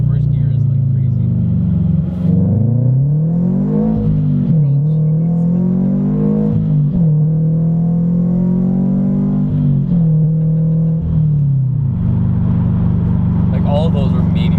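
A supercharged Subaru BRZ on a street tune pulls hard at about half throttle, its engine note climbing repeatedly through several loud, close revving runs and dropping sharply at each lift-off or shift, with steady rumble underneath.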